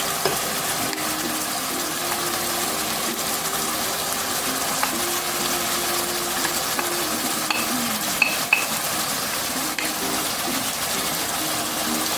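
Onions and scallions fry in a pan for a Jamaican-style beef liver dish, a steady, fairly loud sizzle with a watery hiss and occasional faint stirring knocks, no voices.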